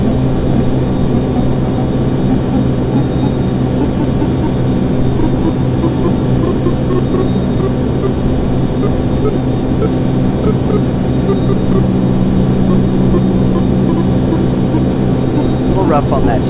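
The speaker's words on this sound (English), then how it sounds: "A little rough on that takeoff." Airplane taking off, a loud, continuous engine roar holding steady for the whole stretch with a low droning rumble beneath, close and unbroken.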